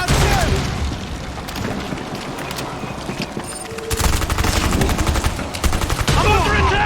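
Bursts of automatic gunfire and scattered shots in Rainbow Six Extraction, loud and close, coming in rapid volleys with short lulls, with voices calling out over the shooting.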